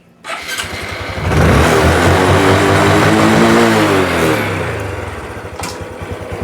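A Honda Wave 125i motorcycle with an adjusted clutch starts up close by and revs loudly and steadily for a few seconds, then eases back to a lower idle.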